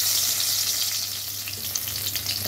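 Crushed garlic fries in hot oil in a kadai, a close, continuous bright sizzle with a steady hiss and no voices.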